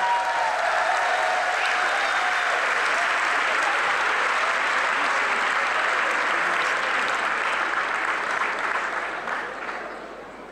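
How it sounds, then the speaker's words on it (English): An audience at a tribute concert applauds a performer, with dense, loud clapping and some crowd noise continuing steadily throughout before tapering off slightly at the end. "Please put your hands together, make some noise, show some love for Mr."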